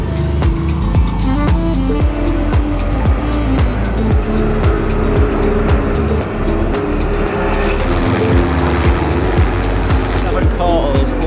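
Race cars at the 24 Hours of Nürburgring stream past close by in a loud, continuous run of engine roars and pass-bys, with tyre squeal and crowd noise throughout and no clear talk.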